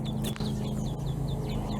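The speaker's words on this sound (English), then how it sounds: "Lots of little duckies. And a very proud daddy." Ducklings with their father duck, a string of faint high peeping calls repeated at a steady pace over a constant low hum, with no talking.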